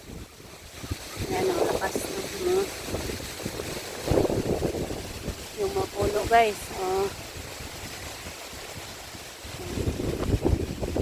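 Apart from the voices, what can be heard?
strong typhoon wind (Kristine) by the sea in Bohol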